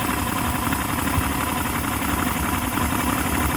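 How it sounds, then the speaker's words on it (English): A 2006 Yamaha 150 TXR two-stroke outboard engine idles low, around 800 RPM, with a rough, uneven, sputtering drone that carries steadily and close throughout. "See, it's sputtering."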